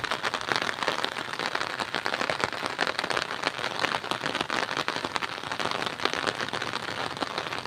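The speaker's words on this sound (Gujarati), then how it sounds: "ધીમે ધારે વરસાદે પણ શરૂ છે." Light rain falls steadily near a flooded roadside by a temple, a dense, even patter of drops on surfaces continuing throughout without any talking.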